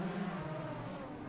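Race cars accelerating together at the rolling start of the 24 Hours of Le Mans in rFactor, a dense, steady engine roar with no clear single pass-by across the short moment.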